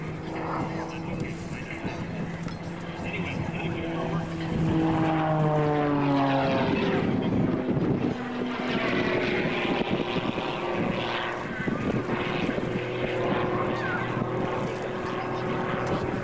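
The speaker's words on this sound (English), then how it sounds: "Watch now as Mike dives back down from leading airspeed and repositions the aircraft" Propeller aerobatic plane at an airshow diving and pulling back up, the engine pitch dropping sharply then holding steady as it repositions, loud and sustained with an announcer talking over it.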